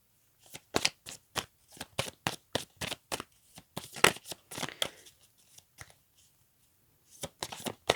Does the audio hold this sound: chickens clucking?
no